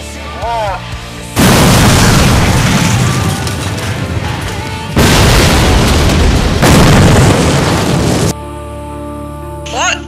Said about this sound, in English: Detonating now.